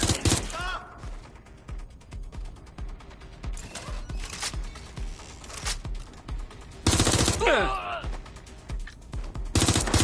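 Gunfire in a war video game: rapid bursts of automatic fire and single sharp shots crackle steadily, loud and close, with brief loud flashes of noise.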